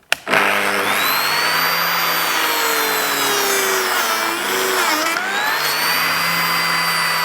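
A Lamello Zeta P2 biscuit joiner runs loud and close as it cuts a groove in a board, a steady high motor whine that dips briefly in pitch midway before recovering.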